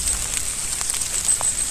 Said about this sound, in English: It's gentle rain, but yeah, I'm not looking forward to it.